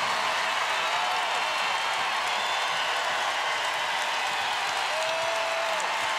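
Basketball arena crowd at an NC State women's NCAA Tournament game at Texas cheering and applauding in the first quarter, a steady, dense wash of noise throughout with no distinct voices standing out.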